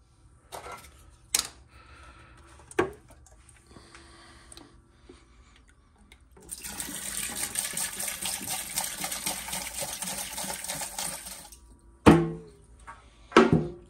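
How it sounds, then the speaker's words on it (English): Acetone poured into a bucket of RC car tires gives a steady gushing, splashing pour of several seconds in the middle, set between sharp knocks and clatters of the container and lid. "We're just gonna go ahead and put all this acetone in there."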